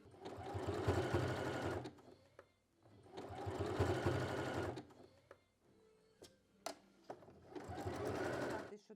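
Sewing machine stitching warm clothing runs in three bursts of rapid mechanical whirring and clatter separated by short pauses with small clicks and knocks, close and fairly loud.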